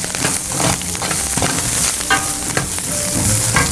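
Lentils sizzle and fry in a pan with curry leaves and coriander, a steady loud crackle with occasional stirring scrapes throughout.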